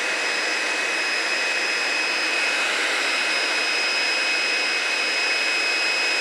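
Hydraulic press power pack running loud and steady as the cylinder is lowered by remote switch, a constant close whining roar with a faint high tone over it and no voices.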